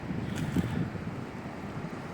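Steady sea breeze buffeting the microphone on a coastline in Adana, Turkey, a continuous low rumbling gust with faint wave wash underneath and no voices.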